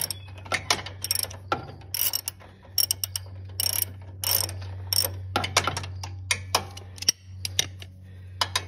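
Ratchet wrench on an extension removing bolts from a Cub Cadet mower engine, close clicking pawl sounds in quick bursts and short runs, with brief pauses between.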